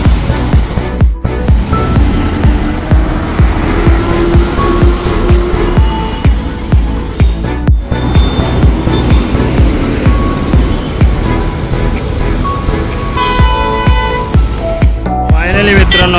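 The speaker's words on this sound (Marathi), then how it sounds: "ठाणेश्वरी बघा गाडी चालली आहे" Buses and trucks roll past on a congested highway in the Konkan region of Maharashtra, with a continuous loud engine rumble, a few brief horn tones and a speaking voice throughout.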